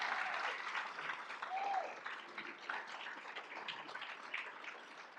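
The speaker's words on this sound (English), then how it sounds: "Let's give Ashley a round of applause" Audience at the Financial Health First Responder of the Year award event applauds steadily for about five seconds, a dense, even wash of many hands clapping at moderate distance with no talk over it.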